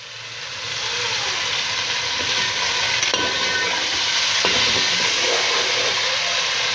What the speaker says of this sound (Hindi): मिक्स कर लीजिए इसे अच्छे से।